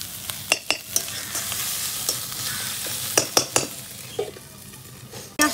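Onions with turmeric frying in a pan for potol dorma gravy, a steady close sizzle under repeated sharp scrapes and clinks of a spatula stirring against the metal pan.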